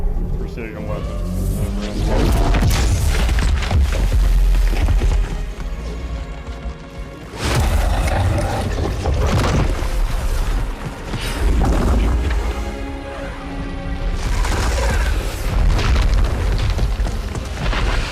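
Heavy booming explosions and deep rumbles from a fleet firing in the Halo 2 video game, loud and continuous in rolling waves, with game voices talking over the blasts.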